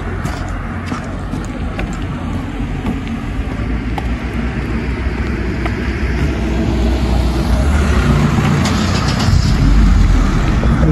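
Steady traffic noise from cars moving along a city street in Sighișoara, a continuous loud engine and tyre rumble that swells slightly toward the end, with no talking.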